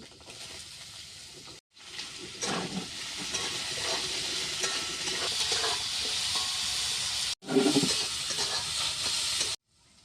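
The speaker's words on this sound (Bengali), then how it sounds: "কচুটা ভাজা ভাজা হয়ে গেছে এবার বেগুনটা আমি দিয়ে দিচ্ছি" Eggplant added to hot oil where taro has already been fried for a Bengali prawn and eggplant-taro sour curry, giving a loud steady sizzle and hiss that cuts out briefly twice, with a sharper burst of spitting as more vegetables go in.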